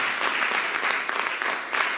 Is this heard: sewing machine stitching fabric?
no